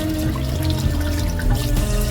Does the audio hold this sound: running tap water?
yes